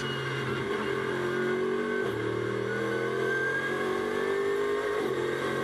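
Onboard a GT race car at Brands Hatch during qualifying, the engine drones loudly and steadily through gear changes near the start and around two seconds, with no talking.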